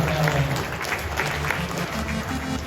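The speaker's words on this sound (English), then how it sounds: "Give him a round of applause" Steady applause from an audience at the Token2049 crypto conference, a dense wash of clapping that holds at a fairly even level throughout, with some voices mixed in underneath.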